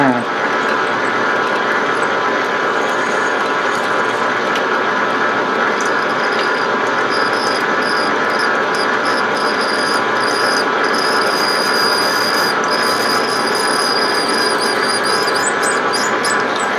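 A lathe plunge-cuts grooves into a motor pulley, giving a continuous, close mechanical whir and grinding with rattling gear and clutch noise, and sharp high squeals and chatter joining partway through; no speech.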